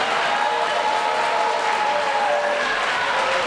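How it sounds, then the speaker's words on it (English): A school audience gives a sustained round of applause for their principal, a broad, even roar of many hands clapping that holds steady throughout at a close, full level. "let's give the principal a nice round of applause."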